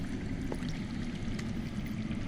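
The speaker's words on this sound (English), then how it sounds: "I hear water. From underground." Water flowing underground in the Game of Thrones Telltale video game, a steady low rushing stream with faint gurgles, continuous and moderately quiet with no talk.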